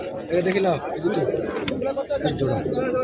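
A pair of pigeons cooing indoors at a busy pigeon market in Beldanga, Murshidabad, with low rolling coos running continuously beneath loud, overlapping human chatter.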